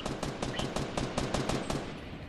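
Rapid automatic gunfire in a squad battle-royale video game, a fast rhythmic burst of shots repeating steadily, close and moderately loud with no talk over it.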